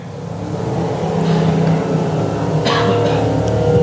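A stock car, the number 18 car, spins out at Sauble Speedway under caution, its engine revving loudly and steadily close by for several seconds, with a brief tire scrub near the end.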